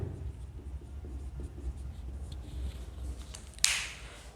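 Marker or chalk writing on a board during a maths lesson, with soft scratchy strokes under quiet room noise, ending in one sharper squeak-like stroke near the end.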